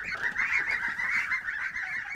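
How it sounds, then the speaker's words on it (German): A flock of young organic geese on a farm honks continuously, a dense, near and steady chorus of overlapping nasal calls with no talking. "120 junge Biogänse bestellt"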